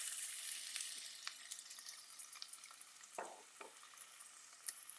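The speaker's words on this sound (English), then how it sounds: "on a medium heat, just saute them off" Carrots and celery sautéing in a pan over medium heat, a soft steady sizzle with occasional faint stirring scrapes and light clicks, quiet and close with no talking.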